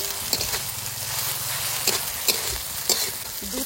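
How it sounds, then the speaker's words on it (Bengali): Ginger and garlic fry in hot oil in a pan, a close, continuous sizzle with a few sharp spatter pops and scraping stirs. "এবার আদা রসুনটা ভালো করে একটু ভেজে নেবো।"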